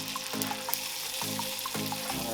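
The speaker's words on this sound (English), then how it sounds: "I just want to sear the rest of the sides like I was talking about." Wagyu ribeye steak searing in a hot pan, a continuous close sizzle and hiss with small repeated clinks or shifts as the sides are turned, with no talking.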